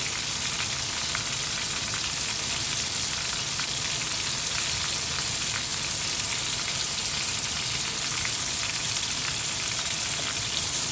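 Parrot fish sizzling and frying steadily in a hot pan, a dense continuous crackle of oil that stays loud and even throughout with no voices.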